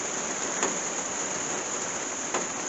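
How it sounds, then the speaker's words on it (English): Heavy rain pours down as a dense, steady hiss, with a couple of faint drip-like accents and no voices. "it's raining pretty hard now"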